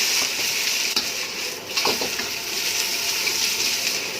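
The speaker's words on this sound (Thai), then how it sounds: "ผัดทั้งหมดที่เราเตรียมไว้ใส่เข้าไปเลยครับผัดให้สุก" Fried rice ingredients and egg stir-fried in hot oil in a pan, a steady loud sizzle broken by scraping and stirring strokes, with no talking.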